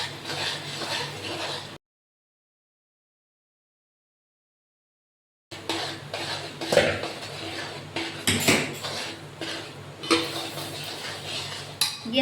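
A spoon scrapes and clinks against a pan as a mandvi pak mixture of peanuts is stirred in a home kitchen, repeated metallic strokes close by, broken by a few seconds of silence.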